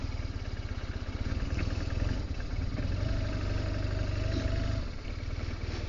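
Motorcycle engine idling and running at low revs while the bike is manoeuvred slowly, a steady close throb with a slight rise in revs midway, no talk.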